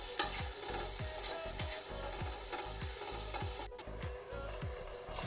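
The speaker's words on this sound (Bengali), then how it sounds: "দিয়ে দিচ্ছি সামান্য একটু লবণ আর একটু হলুদ গুঁড়ি দিয়ে ভালো করে একটু ভেজে নেব।" Small fish fry in oil with salt and turmeric, a soft continuous sizzle under a regular rhythm of spatula strokes scraping the pan, about two per second, fairly quiet and without speech.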